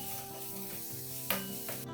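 Sugar mixture with cardamom powder frying for Bhapa Pitha, a Bengali steamed sweet, giving a low steady sizzle with a couple of scraping stirs, no voices.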